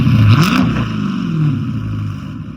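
A loud, throaty Dodge Charger Scat Pack V8 engine, at 100k miles, revs up sharply then settles into a rumbling idle, close by, with no talking.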